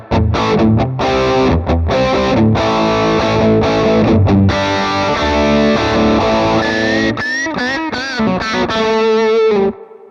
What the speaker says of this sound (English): Let's have a listen to that reverb now.